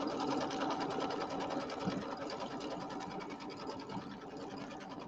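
An embroidery machine stitches trimming lines for a mummy design, running continuously with a fast, steady needle chatter throughout, close and moderately loud.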